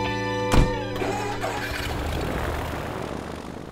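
An airplane in the video game Animal Crossing: New Horizons drones with a steady propeller hum, preceded by a sharp thump and tonal game chime, and the engine noise continues as a sustained, fairly loud roar.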